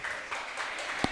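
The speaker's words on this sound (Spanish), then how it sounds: "Un gran aplauso para ambos competidores." A crowd at a mixed martial arts fight night applauds both fighters after a knockout, a broad, steady wash of clapping heard from a distance in the arena.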